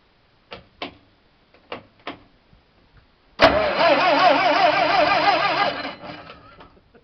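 A Polaris air sled engine cranks in several short clicking turns, then catches and fires into a loud, buzzing run close by for a few seconds before easing down.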